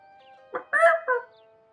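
A monkey call in a video game: three short, honking, nasal hoots in quick succession over a faint steady tonal hum, fairly close and clear with no talk.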